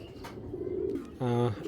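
A pigeon gives a short, close, throaty coo near the end, after a stretch of low background noise.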